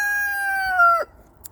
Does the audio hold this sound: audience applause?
no